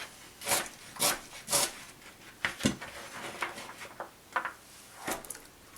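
Carrots being peeled give a series of close, dry scraping strokes. The rasping swipes are short and come in an irregular rhythm.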